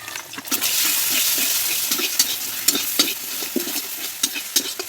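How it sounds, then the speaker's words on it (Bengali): Two eggs with a little salt frying in oil and being broken into crumbs, a loud close sizzle with sharp, frequent spatula scrapes and clatters against the pan, no voices. "দিয়ে ডিমটাকে গুঁড়ো গুঁড়ো করে ভেজে নেব"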